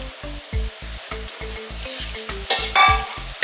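Tomato puree for undhiyu sizzling in a hot pan, a steady frying hiss under rhythmic stirring scrapes, with brighter sizzling bursts near the end, close and loud.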